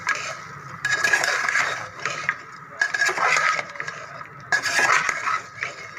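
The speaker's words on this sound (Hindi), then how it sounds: "अब मैं इसको मसाले में थोड़ी देर भूनूंगी" Arwee is sautéed in spices in a pot over a medium-low flame. A spoon scrapes and clinks against the pot in irregular bursts over a soft, low sizzle, close by and with no talking.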